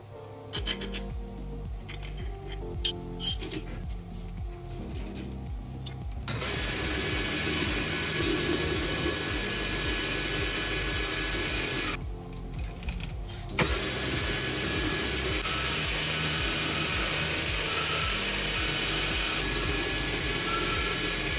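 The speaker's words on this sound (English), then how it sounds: "I'll finish machining the shaft down its entire length" Lathe machining a steel shaft down to diameter along its full length, a dense steady grinding and whirring that shifts and swells in stages, close and fairly loud with no speech.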